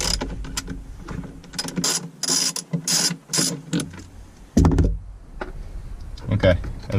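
A ratchet wrench loosens a 10mm bolt inside a 2016 Toyota Tacoma, sounding as close bursts of sharp clicking separated by brief pauses and occasional knocks.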